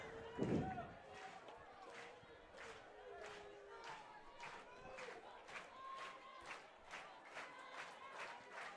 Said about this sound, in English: Crowd getting the energy back into it